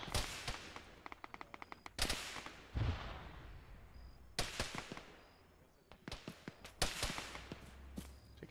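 Gunfire in a ShackTac military video game: a rapid burst of automatic shots, then heavy single blasts and scattered cracks with echoing tails, some loud and near, others fainter, with voices talking over them.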